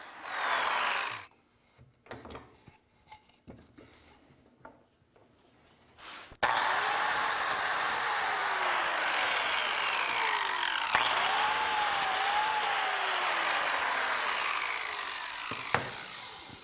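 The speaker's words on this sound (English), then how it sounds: "I can go ahead and make these cuts in the tops and bottoms." A power saw cuts through the tops and bottoms of small wooden cabinets, starting with a few knocks and handling noises, then running as a steady loud whine for about ten seconds before winding down.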